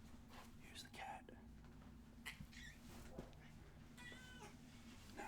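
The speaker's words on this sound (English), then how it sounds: "Here's the cat." A house cat meows a few times indoors, fairly close, over a steady low hum and soft whispered talk.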